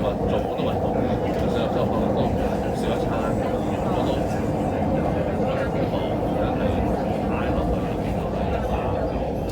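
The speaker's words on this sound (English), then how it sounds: "On a C train." An MTR C-Train on the Tuen Ma line, travelling from Yuen Long toward Siu Hong, gives a dense, even roar of wheels and traction motors inside the car, holding close and constant throughout.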